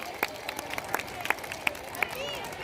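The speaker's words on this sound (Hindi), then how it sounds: "आया तो ताली बजनी चाहिए" An audience at a primary school event applauds after a game segment: scattered, uneven claps with a few sharp louder ones, over a murmuring crowd.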